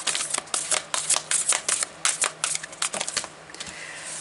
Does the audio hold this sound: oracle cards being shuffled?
yes